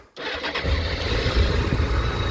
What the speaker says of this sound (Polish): No i motor pięknie nam tutaj pracuje.